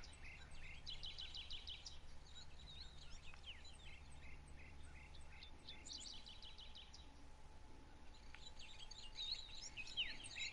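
Chirping and tweeting songbirds and crow-like calls in the ambience of a wild turkey hunting video game, bursts of repeated high chirps over a steady low hum, with a faint insect-like buzz and no talk.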